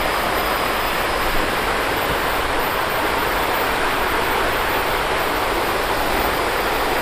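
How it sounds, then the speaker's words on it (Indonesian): A forest river rushes steadily in a loud, unbroken wash of flowing water, close and constant with no voices over it. "Ini sungai, masya Allah."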